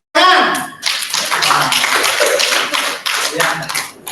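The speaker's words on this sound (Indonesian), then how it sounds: "Aplaus, tepuk tangan" A classroom audience at a teacher-training session applauds, with a loud opening clap burst followed by uneven, close-up clapping by a modest group, and some talk mixed in.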